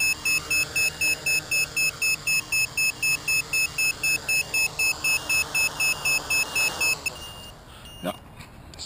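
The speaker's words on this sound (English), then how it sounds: "now the telemetry alarm is going off, and the LiPo alarm that's in board the flight control is going off too" A DIY X450 graphite quadcopter's telemetry alarm and its flight controller's onboard LiPo battery alarm sound during a night flight: a rapid, steady train of shrill electronic beeps for about seven seconds, then they stop and brief handling noise follows.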